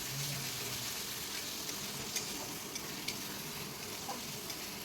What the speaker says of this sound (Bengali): এখন দিয়ে দিলাম এতে আলু দিয়ে আর একটু টাইম সাতলাবো